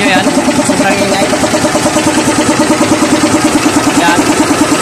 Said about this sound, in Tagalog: Nagapak yung makina.